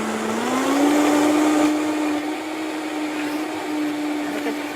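A blender whirs steadily as it mixes a green mint shake with cream, a loud continuous motor hum with one rising pitch at the start, then holding even.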